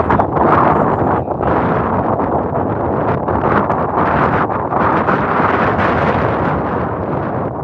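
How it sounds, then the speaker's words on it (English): Strong gusts of wind blast across an open frozen lake on an ice fishing trip, a loud and continuous roar with rough buffeting against the microphone that lasts throughout. "See, there goes the wind again."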